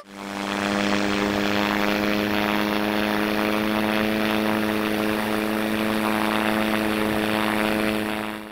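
A propeller airplane in the flight video game Sky Voyage drones steadily and loud, its engine holding a constant buzzing hum for the whole stretch with no talk.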